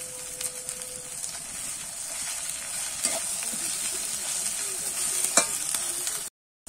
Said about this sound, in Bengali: এবারে একটু কিন্তু নেড়ে কাঁচা গন্ধটা যতক্ষণ না চলে যাবে একটু কিন্তু আমি ভেজে নেব।